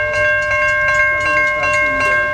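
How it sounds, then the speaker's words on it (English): CN mixed freight train passing the Emmons Boulevard railroad crossing in Wyandotte, Michigan, with steady loud rumble and the sustained ringing tones of crossing bells close by, no talk. "Here comes the CN train at Emmons Boulevard"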